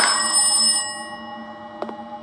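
A telephone bell rings loudly in a horror video game, one sustained metallic ring that fades out over about a second, then a couple of faint short clicks in a quiet room.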